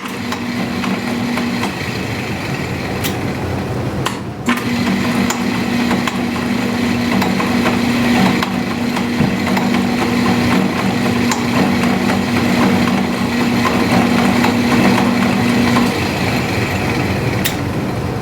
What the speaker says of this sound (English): we're going to load that drill bit into a precision machine to try to just very gingerly machine out the hole